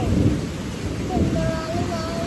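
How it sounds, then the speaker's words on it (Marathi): Steady heavy rain on a village day with a deep rumbling undertone like distant thunder, continuous and loud throughout. "थंड थंड पाऊस पडतोय."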